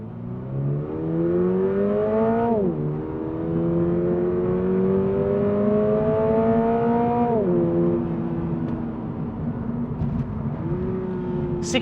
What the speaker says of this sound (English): I'm in track mode, and I'm going to use a bit of a torque converter launch